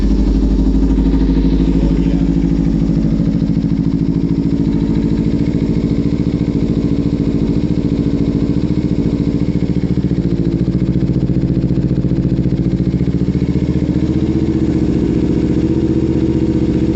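Kawasaki Ninja 300 fitted with a Leo Vince GP Corsa slip-on exhaust, dB killer removed, idling loud and close with a steady deep rumble throughout, no voices.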